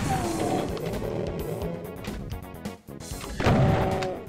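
Rapid machine gun fire and blasts in the first-person shooter game DOOM 2 crackle and boom over a busy mix of game sounds, with louder bursts toward the end.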